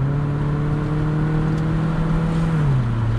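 A 2005 Proton Waja 1.6 sedan accelerates hard while overtaking on a road trip, its engine droning steadily from inside the cabin with a continuous rising and falling note and no voices over it.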